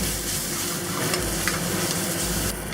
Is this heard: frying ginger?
yes